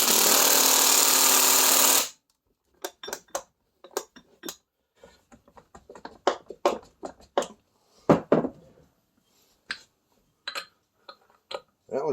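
A power tool drives Triumph Spitfire 1500 wheel bolts down in a crisscross pattern: a loud continuous whir at first, then scattered short clicks, taps and metallic knocks at irregular intervals, close by, with no talk.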